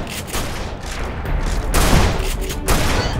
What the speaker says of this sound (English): Throw my useless grenades.